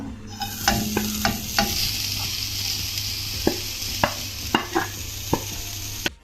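Grated coconut stirred in a hot pan, with a steady sizzle throughout and a string of sharp scraping clicks from the spatula striking the pan at irregular intervals, close and moderately loud.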